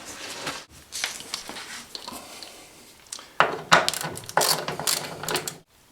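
A ratchet loosens the hinge bolts on a fridge door, giving close, quick clicking runs in uneven bursts with brief pauses and a few metallic knocks between them.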